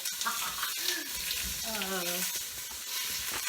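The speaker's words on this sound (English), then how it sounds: "When you hear that sizzly sound, you hear the sizzle?" Food sizzles and crackles steadily in a hot pan, loud and close, while a person speaks briefly over the frying.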